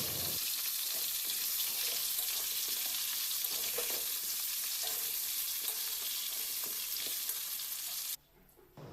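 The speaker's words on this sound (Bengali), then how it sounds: "খুন্তি দিয়ে একটু নেড়ে চেড়ে দিচ্ছি যাতে নিচে লেগে না যায়।" Potatoes fry steadily in hot oil in a kadai while a spatula scrapes and stirs them, giving a continuous close sizzle with scraping strokes throughout; the sizzle drops away abruptly near the end.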